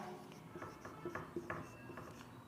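Marker or chalk writing strokes on a classroom board, a series of short scratchy rubs in uneven rhythm, close and moderately quiet with no talk.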